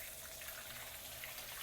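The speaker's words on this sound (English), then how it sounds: "shooting the hose spray over the body of water" A garden hose sprays water over the surface of a fish pond, giving a steady, close, hissing splash that runs unbroken without any talk.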